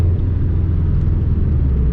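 Continuous low rumble of a 2005 Subaru STI running a COBB 20G turbo on the move, heard from inside the car, steady and fairly loud with no talking.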